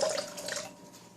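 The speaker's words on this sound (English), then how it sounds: "So I'll be measuring water into the container." Water being measured and poured into a container for lard soap making, a short steady splashing trickle, fairly close and alone.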